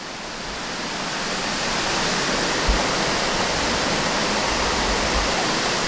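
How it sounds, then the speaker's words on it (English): Lewis Falls in Shenandoah National Park pouring down a cliff, a dense, steady roaring rush of falling water, loud and continuous with no voices. "Well, here's the waterfalls."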